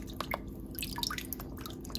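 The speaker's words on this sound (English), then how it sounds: "we're just going to give it a swish in the water" Leek pieces swished through water to rinse out sand give soft irregular drips and splashy plinks over a low background hum, faint and close.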